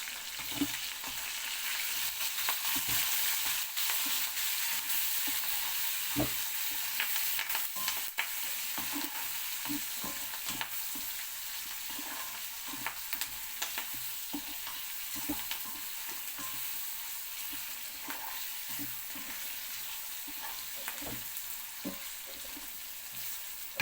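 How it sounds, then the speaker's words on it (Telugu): Curry leaves and chopped onion sizzle steadily in a hot pan for a chicken fry, a continuous loud hiss broken by scattered crackles and spoon scrapes. Nobody speaks. "వేగుతుంది కదా, దీంట్లోకి కొంచెం కరివేపాకు, ఉల్లిపాయ వేసా"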